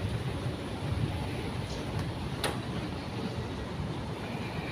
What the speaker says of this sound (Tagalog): Saan yan? Train daw.